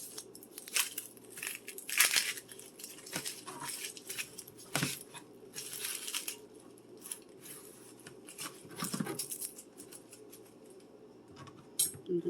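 An onion's dry outer layers being peeled off by hand give a close, quiet run of papery crackles and crinkling rustles in irregular bursts, with no talking.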